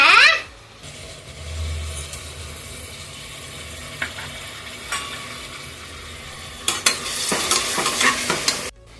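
Tomato and onion sauté in a pan. A loud sizzle at the start settles into a quieter, steady frying, broken by sharp scraping and clattering stirring strokes near the middle and again toward the end.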